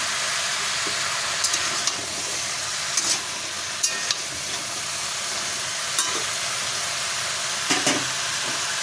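Mixed vegetables for shukto frying in a pan with grated ginger, a steady sizzle with a few louder pops and stirring clinks scattered across, close and without speech.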